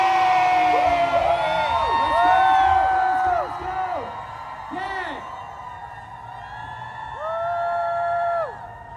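A concert crowd at a fan event in Hongdae shouts the band name together in loud, high-pitched rising and falling cries, with repeated waves of chanting and cheering filling the room.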